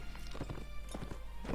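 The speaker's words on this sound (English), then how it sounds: "I start charging with the horse" Galloping hooves of a horse in the medieval combat game Mount & Blade: Warband, a quick, close, repeated clip-clop rhythm filling the short moment with no talking.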